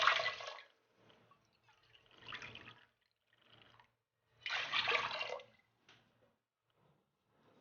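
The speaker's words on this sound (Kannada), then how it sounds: "3 ಕಪ್ನಷ್ಟು ನೀರು ಸೇರಿಸ್ಕೊತಾ ಇದ್ದೀನಿ." Water is poured into a pot for a navane millet bele bath in three separate splashing bursts with quiet gaps between them, close and fairly soft.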